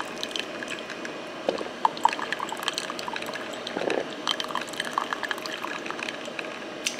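Hot water pours from a coffee maker run on a Bluetti EB55 power station, a faint trickling and splashing with scattered small clicks, quiet and close throughout.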